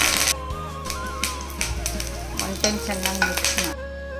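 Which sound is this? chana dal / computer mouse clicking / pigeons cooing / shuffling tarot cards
chana dal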